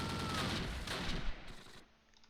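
Gunfire in the World War II video game Close Combat Last Stand Arnhem comes as a dense burst of rapid shots for over a second, then fades to quieter scattered cracks.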